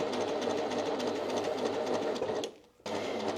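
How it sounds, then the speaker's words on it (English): A sewing machine runs a steady double stitch across a small fabric-scrap heart, its close, continuous whirr cutting out briefly near the end before picking up again. "I am double stitching right on the top of the heart to make sure the little tag is"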